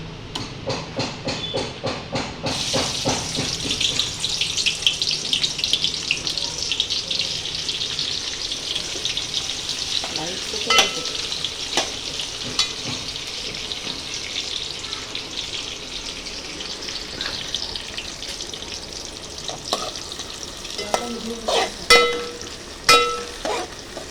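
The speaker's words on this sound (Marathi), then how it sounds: "तेलामध्ये कांदा शिजवायचा." Onion cooking in oil with a steady, fairly soft sizzle. A rapid rattling burst opens it, and a few sharp clinks and scrapes from a utensil follow. No one speaks.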